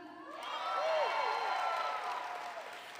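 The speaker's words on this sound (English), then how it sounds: "Please give another round of applause to your district representatives." An audience at a 4-H closing assembly at Oklahoma State University claps steadily, in a sustained wash of applause with some cheering and whoops, fading slightly toward the end.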